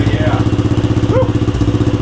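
Vintage dirt bike fitted with a swapped 200cc quad engine, idling close by with a steady pulsing putter, while a person talks and whoops over it.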